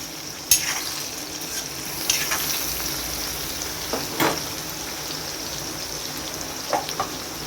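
Brinjal and green chili curry cooks in a pan, a soft continuous sizzle with a few brief clinks and scrapes of stirring, fairly close and quiet.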